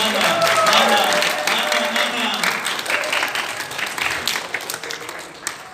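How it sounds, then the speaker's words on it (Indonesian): Church congregation clapping together during a worship service, a dense, steady wash of applause that continues throughout, with voices and some background music mixed beneath. "Tepuk tangannya semua 1, 2, 3, mana"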